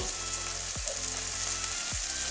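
Salt-soaked brinjal (eggplant) pieces fry in a generous amount of hot oil for a bengun-uchhe bhaja, giving a steady, close, dense sizzle with two brief scraping stirs, and no voices.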